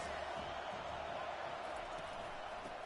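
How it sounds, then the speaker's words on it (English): College football stadium crowd roaring to back the defense, a continuous, dense wall of cheering that stays level and distant throughout. "Listen to this crowd just shaking the girders of this place, trying to help their defense."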